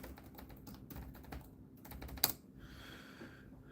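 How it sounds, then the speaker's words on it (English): Quiet, rapid clicking of keys on a computer keyboard continues, with one sharper keystroke partway through and no voices. "I am typing those all manually"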